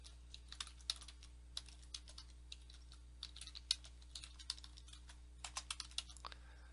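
A web address is typed on a computer keyboard, quick irregular clusters of close, crisp key taps with short pauses between bursts over a low steady hum.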